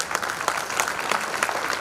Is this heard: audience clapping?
yes